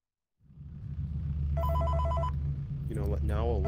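In the FNAF VR video game, a telephone rings with a repeated electronic trilling tone over a low humming background, followed by a voice starting to speak.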